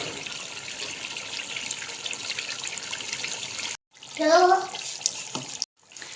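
Water is poured into a pan of beef karahi masala, giving a sustained rushing hiss that stops abruptly, followed by a brief voice and a few faint clatters.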